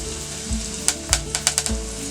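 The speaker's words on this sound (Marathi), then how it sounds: "तर मी कांदा फोडणीला घालतोय" Chopped onion and curry leaves hit hot oil in a pan for a Malvani fish curry tempering, giving a close, steady sizzle with a few sharp spatters and stirring knocks.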